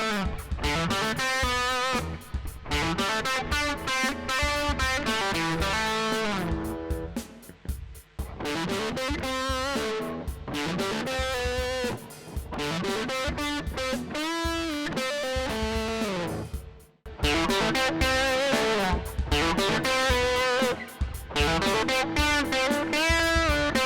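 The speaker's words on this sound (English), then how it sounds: "This gives some very pleasant distortion without being too over the top." An electric guitar with Seymour Duncan pickups plays through a home-built Tone Bender MK II fuzz pedal into a moderately overdriven amp, producing thick, sustained distorted chords and riffs with brief pauses between phrases.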